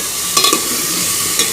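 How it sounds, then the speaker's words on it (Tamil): Chopped tomato sautés in oil with mustard seeds, a soft steady sizzle broken by a few brief scraping stirs of the spoon against the pan, close and alone. "தக்காளி வந்து நல்லா வதக்கி விட்டுக்கணும். அது வரைக்கும் நல்லா கிளறிக்கோங்க."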